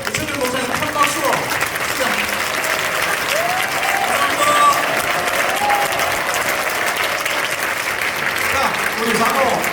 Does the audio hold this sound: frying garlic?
no